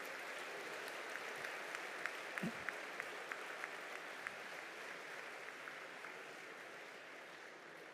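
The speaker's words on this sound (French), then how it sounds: "Je demande d'applaudir l'ensemble de ces camarades" Sustained applause from a large union congress audience, an even wash of many hands clapping that holds steady for the whole stretch, heard from a slight distance.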